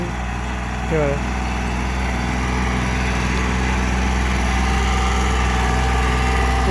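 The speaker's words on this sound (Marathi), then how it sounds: "ट्रॅक्टर सध्या बाजरीची पेरणी चालू आहे" A tractor sowing summer pearl millet in a farm field gives a steady, close mechanical drone with a low throbbing hum, holding level from start to finish with a brief tonal sweep near the start.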